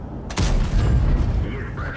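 A tank gun shot striking a tank track in a video game: one loud, abrupt boom followed by a dense rumbling roar that stays loud to the end.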